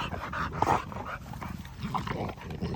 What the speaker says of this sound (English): These are young puppies, guys.